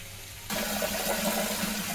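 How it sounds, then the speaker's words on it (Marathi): Tap water gushes suddenly into a container being filled with fresh water for cooking in a home kitchen, a steady close splashing flow after a moment of quiet. "स्वयंपाकासाठी ताजं पाणी भरून घेते पाणी आलेलं आहे नळाला"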